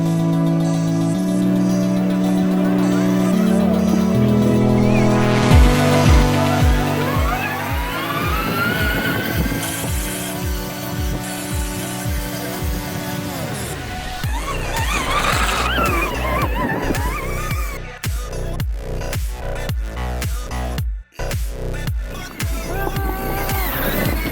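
An electric off-road motorcycle is ridden hard, its motor whine rising and falling in long sweeps amid crunching and skidding tyres on loose ground, loud and close throughout.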